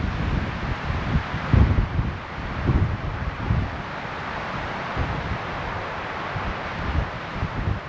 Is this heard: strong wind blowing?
yes